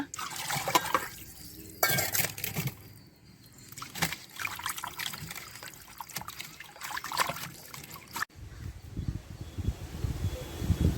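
Duck meat being rinsed in water, with trickling, splashing water and handling noises at close range for a duck and fenugreek-leaf gravy; no voices.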